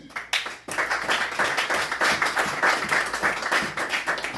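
A church congregation applauds together in a steady, fast patter of many hands clapping, loud and close, sustained throughout without speech.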